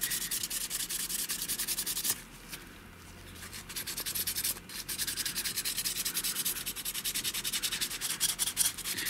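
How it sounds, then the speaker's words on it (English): Sandpaper wet-sanding a carbon fiber quad frame surface, a continuous close rhythmic rasping rub with a brief pause partway through, loud and alone without talk. "So now we just take the sandpaper, you can wet it a little bit as well, and then we'll just go to town on the surface"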